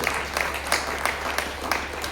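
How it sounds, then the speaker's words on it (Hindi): Scattered hand claps from a small audience at a Hindi poetry gathering and book launch greet the poet Anpadh, arriving in a loose, fairly regular rhythm of single claps that are moderately close and not very loud. "अनपढ़ जी के लिए जोरदार तालियां जरूर बजाएं।"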